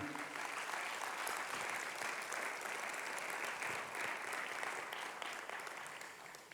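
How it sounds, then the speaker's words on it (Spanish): A church congregation claps together as an offering of praise to God, a steady, dense round of applause filling the room at a consistent level and tapering slightly at the end. "una ofrenda de palmas al Señor"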